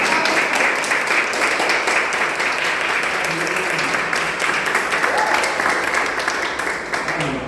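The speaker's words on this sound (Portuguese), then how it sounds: "Vamos dar um aplauso, pode dar um aplauso" A church congregation applauds steadily during a thanksgiving service, dense continuous clapping filling the room at full volume throughout, with faint voices mixed underneath.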